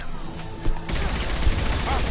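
Gunfire in the Mass Effect 2 video game: a dense, crackling volley that breaks out partway through and keeps going in sustained bursts, with faint voices underneath.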